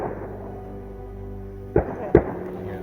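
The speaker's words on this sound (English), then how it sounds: "while filming our investigation here, we heard gunshots" Two sharp reports ring out in quick succession at a rural haunted site on private ranch land, like gunshots at a distance over a low steady background hum, with no talking.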